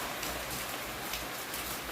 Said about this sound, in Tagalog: So medyo kumalma na yung ulan.